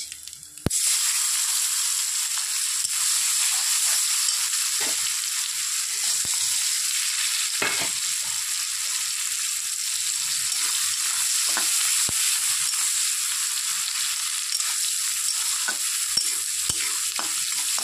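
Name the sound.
chopped onion frying in pan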